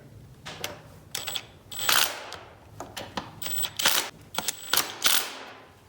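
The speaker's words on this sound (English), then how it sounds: "go ahead and run the screws in" A handlebar riser on a KLR650 motorcycle is mounted with screws driven in by a ratcheting tool. The clicking comes close and loud in uneven bursts, with short gaps between them.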